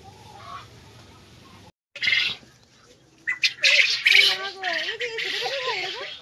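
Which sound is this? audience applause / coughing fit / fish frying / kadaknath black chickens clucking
kadaknath black chickens clucking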